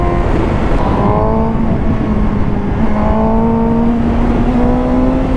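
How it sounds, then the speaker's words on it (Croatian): A 2019 Suzuki GSX-S 750 motorcycle with a dB killer fitted in its exhaust gives a loud, close engine drone whose pitch climbs in two rising revs over the steady rumble. "Bez DB killera vjerovatno bi zvučao motor dosta bolje"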